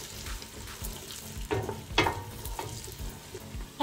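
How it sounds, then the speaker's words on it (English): Chopped onions fry in melted butter in a cooking pan, a soft continuous sizzle broken by a few louder stirring scrapes and crackles, fairly quiet and close, with no voices. "You just want to fry your onions first for about 30 seconds."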